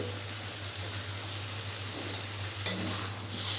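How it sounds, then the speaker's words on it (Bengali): Chopped Malabar spinach leaves go into a pan of fried split peas and stalks and are stirred, giving a steady low sizzle with soft scraping and one sharp clink of the utensil near the end. "এইবারে এর ভেতর দিয়ে দেব ছোট ছোট করে কেটে রাখা পুঁইয়ের পাতা।"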